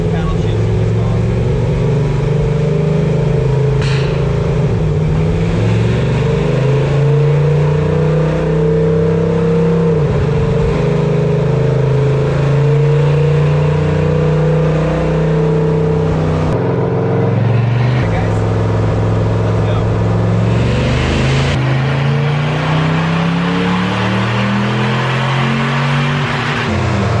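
A supercharged Toyota offroad truck with paddle shifters drones steadily as it drives, its engine pitch climbing and dropping through several rev swells and shifts, loud and close throughout, with someone talking over it.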